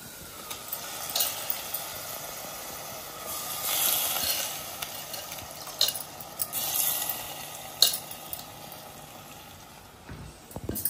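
Mutton being stirred with masala in a pan, a soft continuous sizzle with scattered clinks and scraping knocks of the stirring spoon, close and fairly quiet, with no talk.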